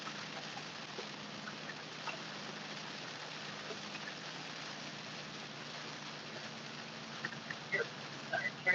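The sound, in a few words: heavy rain downpour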